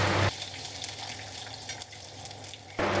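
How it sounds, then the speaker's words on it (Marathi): Cumin, mustard seeds and garlic cloves frying in hot oil on a tawa, a soft continuous sizzle and crackle, briefly louder at the start and end. "तेल गरम झाला की लगेच 1 चम्मच जिरा, 1 चम्मच मोहरी व 10 ते 12 लसणाच्या कळ्या टाकून त्याला लालसर होईपर्यंत शिजवा"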